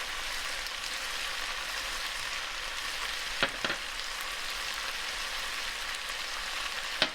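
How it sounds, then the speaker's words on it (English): Peppers and onions frying in olive oil in a pan give a steady, dense sizzle with a couple of brief stirring clicks partway through, close and continuous. "the peppers have been cooking for about 5 minutes"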